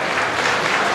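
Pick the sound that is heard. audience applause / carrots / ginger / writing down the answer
audience applause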